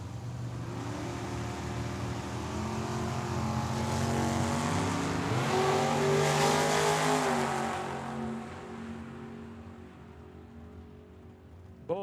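A Vega and a 1967 Corvette launch side by side at a Tucson drag strip, engines revving loudly, building to a roaring pass and then fading as the cars pull away, with no talk over it.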